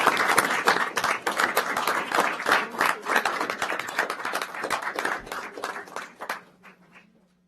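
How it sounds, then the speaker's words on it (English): Applause for a Boy Scout troop at a city council meeting, a steady wash of many hands clapping from the start that thins and fades out over the last second or so. "Let's give them a big round of applause."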